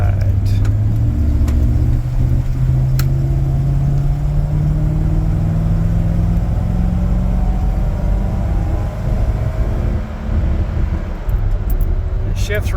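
A 1993 Chevy Beauville van with a quiet muffler drives along, its steady low engine drone and road noise running continuously and fairly loud, with gear shifts showing as smooth pitch rises.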